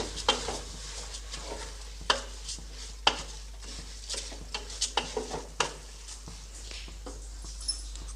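Washed rice being stirred in a pan for fenugreek pulao, with scattered scraping and clacking strokes of a spoon against the pan over a faint steady hum, no talking.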